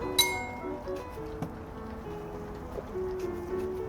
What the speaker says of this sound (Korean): 짠할까요?